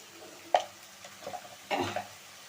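Kohlrabi curry with prawns and potato cooking in a pan as cumin, coriander and turmeric are stirred in: a few scraping stirs and soft clinks against the pan, with faint sizzling underneath.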